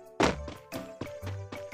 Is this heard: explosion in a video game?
yes